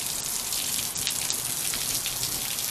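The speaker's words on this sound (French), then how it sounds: "C'est la pluie, c'est un brouillard." Heavy rain in the heart of a thunderstorm, a dense, loud hiss of water pouring down with a few brighter splashes, close and continuous, without any speech.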